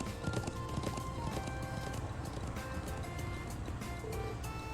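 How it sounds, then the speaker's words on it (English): Horse hooves clip-clop steadily in a video game as a rider sets off, a dense, continuous galloping rhythm over a busy backdrop of game sound and music. "I'm on a horse now. Time to ride."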